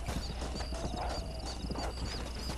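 Horse hooves clip-clop at a steady, even trot in the Red Dead Redemption video game, a loud, close rhythm running through the whole stretch over a dense bed of game ambience.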